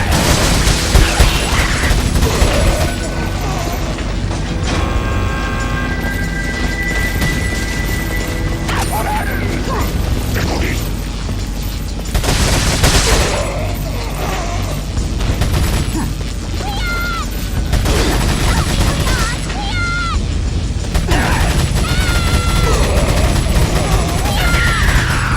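Loud, dense gunfire, crashes and mechanical clanking during the bulldozer section of Resident Evil 4, with bursts of submachine-gun fire, impacts and grinding machinery layered continuously with game music.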